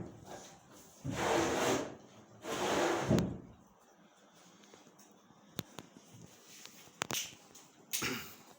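Two rough wooden scrapes a second apart, a drawer sliding open and shut, followed by quieter knocks and a few sharp clicks in a hushed room.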